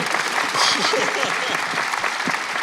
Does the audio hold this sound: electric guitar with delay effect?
no